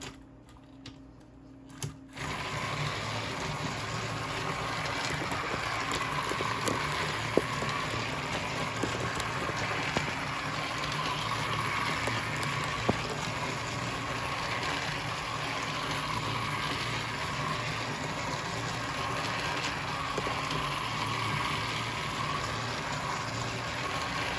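A motorized Thomas and Friends toy train, Classic James, runs continuously after a brief start, a steady close mechanical whirring and rattling hum with faint clicks, no speech.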